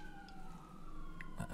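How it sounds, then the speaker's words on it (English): Emergency vehicle sirens wail faintly in the distance, a thin rising-and-falling tone over low background hum. "Those are some sirens."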